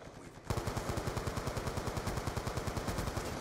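Rapid automatic gunfire from the video game Black Ops 2 starts abruptly after a brief quiet moment, then continues as a fast, even, loud burst of shots close by with no talking over it.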